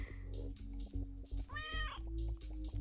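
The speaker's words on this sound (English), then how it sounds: "that cat is pissed and this cat is pissed" An angry cat in the video game Turnip Boy Commits Tax Evasion lets out a loud, rising meow over a steady, pulsing game music loop, with a few shorter cat sounds around it.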